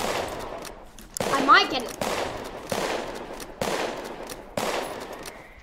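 Sharp, loud gunshots crack in a Roblox Westbound gun battle, six or so evenly spaced blasts with trailing echoes, while a player speaks briefly between them.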